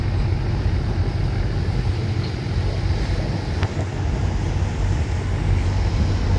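Passenger launch Srinagar 7 pulling into Sadarghat river terminal, a steady broad rumble of engine and water wash with wind noise, continuous and fairly loud throughout with no voices.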